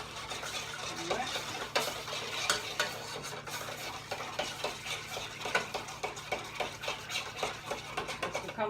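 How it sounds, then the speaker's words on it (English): A tablespoon whisks a mixture in a pot, with quick rhythmic clinks and scrapes ticking along steadily over a faint background sizzle. "I'll just use that tablespoon to whisk it."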